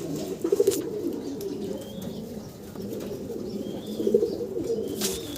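Racing pigeons coo in two short throaty bursts, close by, with faint chirps and rustling between them.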